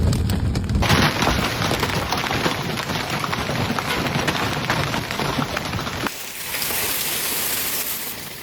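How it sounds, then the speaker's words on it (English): Heavy rain pours hard and steadily during a fast-moving severe storm with large hail and damaging winds in Iowa, a dense loud wash that continues throughout and eases slightly toward the end. "bringing large hail, damaging winds, and intense rainfall to several communities."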